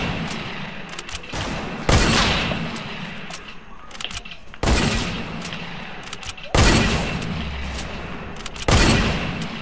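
Gunfire from a PS4 video game comes in repeated loud bursts, each hard shot followed by a decaying rumble, against constant game noise. A voice is faintly audible underneath.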